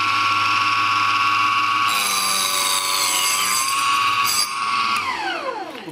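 A small Proxxon chop saw cutting wood: a high, tonal motor whine rises in pitch as the blade bites in, then winds down at the end, loud and close, with no talk.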